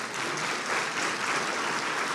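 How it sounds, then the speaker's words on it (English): An audience applauds at a Hearts & Heroes event, a dense, steady clapping that carries on evenly throughout without any talking. "let's give them all a round of applause"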